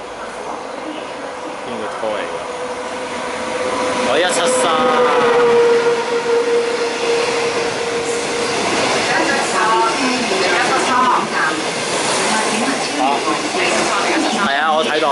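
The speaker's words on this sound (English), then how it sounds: "A non-stop train is passing through the station." Non-stop passenger train hauled by an SS8 electric locomotive passing through Fanling station on the MTR line, a loud sustained rumble and hiss of rolling wagons with squealing tones, under a platform announcement.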